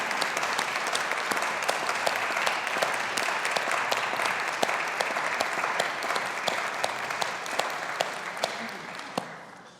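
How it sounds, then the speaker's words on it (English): Graduates at a university graduation ceremony applaud their supporters in a large hall, a dense, even roar of clapping that holds steady for nearly ten seconds and thins slightly at the very end. "ask our graduates just to applaud their supporters who are here with them today"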